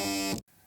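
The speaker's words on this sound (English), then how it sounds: "Oh, that's my phone." Harsh buzzing of a mobile phone, a loud close tone that cuts off abruptly, leaving quiet room sound behind.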